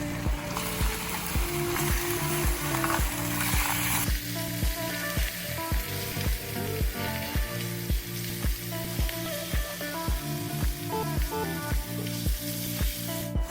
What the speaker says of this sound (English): now we add 750 grams of beef mince